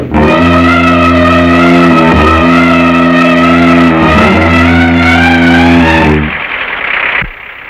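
A car engine revs hard and loud close by, the pitch climbing and dropping in repeated surges before cutting off into a quieter rumble.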